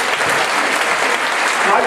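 An audience at a VfL Essingen year-end club celebration bursts into dense, loud, continuous clapping that fills the room.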